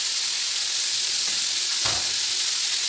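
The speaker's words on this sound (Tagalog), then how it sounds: "Deep-fried muna natin siya ng half cook." Chicken tempura deep-frying in hot oil gives off a steady, dense sizzle, with one brief louder crackle near the end and no voices.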